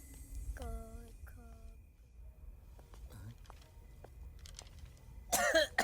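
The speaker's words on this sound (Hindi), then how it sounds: "बहुत खांसी आ रही है" A person coughs a few times, some coughs short and some raspy, faint and close in a quiet room, followed by scattered clicks and a loud rustle at the end.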